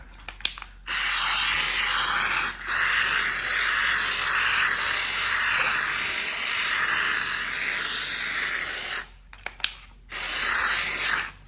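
Aerosol drywall texture sprayed from a can onto a patched wall, a close, steady hissing spray in long bursts separated by brief pauses.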